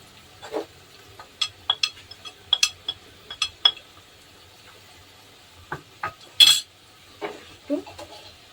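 A utensil stirs cumin, coriander, chili and turmeric powder, salt and ginger paste into frying potatoes and bhola fish in a pan, making scattered clinks and scrapes in short bursts with quiet gaps between them and no voices.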